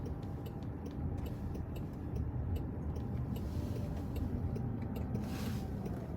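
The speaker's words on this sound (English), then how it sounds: "Now we're in a traffic jam." Cars idling and creeping in a traffic jam on Franklin Street, a steady broadband road rumble with faint regular ticking like a turn signal, no voices.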